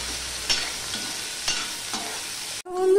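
Onion pieces, garlic and four green chilies sizzle steadily in a hot pan, with three scraping stirs of a spatula across the pan before the sound cuts off abruptly.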